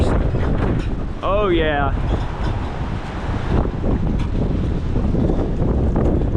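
Strong gusting wind during a cold-front windstorm in the Ohio Valley, funnelling between structures like a small wind tunnel: a loud, continuous roaring rush that swells in bursts, with a person talking briefly over it.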